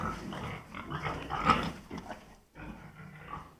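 Pigs, including a sow with piglets, grunt and breathe heavily while lying in a farm pen, with low rough snorts rising to a louder burst midway, a brief pause, then more steady grunting nearby.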